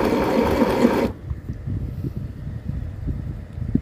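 A SewMighty mini sewing machine stitching in a loud, fast whirring burst for about a second, then stopping and leaving quiet low room noise with faint knocks.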